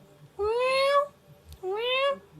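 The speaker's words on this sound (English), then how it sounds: "Hungry cat on the set." A hungry cat on a film set meows twice, clear and close, each cry rising and drawn out, with a short pause between them.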